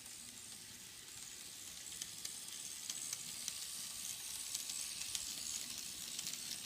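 A faint, steady whirring hiss from a Walthers GP38-2 Santa Fe model train locomotive motor, running continuously with soft ticking underneath.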